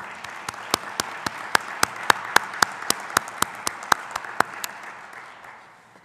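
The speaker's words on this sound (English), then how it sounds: "Let's give a round of applause." Audience applause at a community college graduation, a bed of scattered clapping with one pair of hands striking sharply and rhythmically close by, about three claps a second, tapering off at the end.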